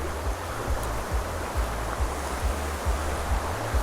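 River water rushing during a cold wading crossing in the forests of Dilijan, a steady broadband hiss and roar close by with low rhythmic sloshing underneath, no voices.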